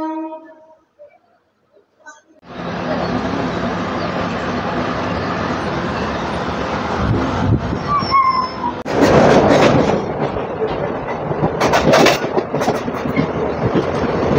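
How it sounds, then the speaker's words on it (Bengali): After a brief quiet start, a passenger train on the Agartala to Belonia line rumbles steadily along the rails into small Shekherpur station before dawn, with rhythmic clatter, squeals and rising clanks as it rolls past nearby. "আমাদের ট্রেন এখন চলে আসলো"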